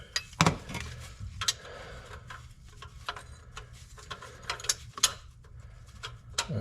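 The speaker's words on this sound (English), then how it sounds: "The flare nut wrench should work." A flare nut wrench works a fitting during removal of a 4L60E transmission from a C4 Corvette, giving sharp, irregular metallic clicks and knocks, some close and loud, spread across several seconds over a low background hum.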